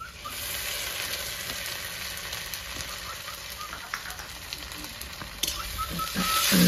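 Chopped onion with ginger, garlic and green chilli paste hits a hot pan for a village-style Bhola fish curry, giving a steady loud sizzle with faint stirring clicks that swells toward the end.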